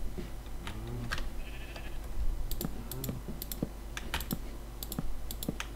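A Minecraft sheep bleats a few times at moderate volume, mixed with frequent sharp keyboard clicks and typing taps.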